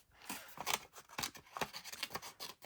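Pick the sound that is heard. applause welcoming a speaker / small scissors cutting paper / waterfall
small scissors cutting paper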